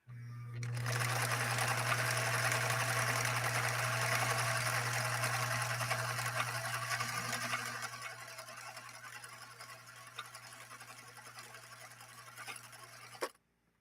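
Viking 21E sewing machine stitching a cam pattern, a steady close motor whir with rapid needle chatter for about seven seconds, then a quieter winding-down hum ending in a sharp click.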